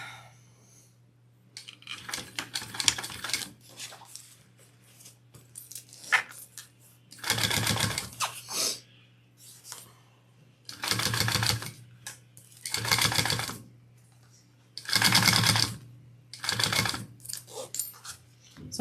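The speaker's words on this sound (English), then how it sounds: "So I'm just kind of pulling my pieces down as I go and top stitching." A sewing machine top stitching fabric pieces for a crossbody bag, running in several short bursts of rapid whirring stitches separated by pauses, with a low steady hum throughout.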